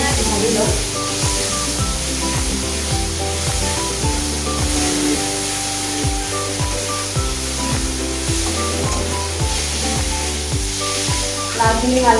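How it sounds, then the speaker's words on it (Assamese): Onion, green chili and cumin spice mix fry loudly in a pan, a dense continuous sizzle with repeated scraping stirs, close up and alone throughout. "আৰু ধুনীয়াকৈ ভাজি লওঁ"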